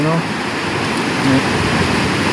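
Heavy rain and wind lash a street, a dense, steady hiss of downpour that fills the whole stretch without pause.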